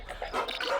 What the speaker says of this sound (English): Why are the dogs barking now?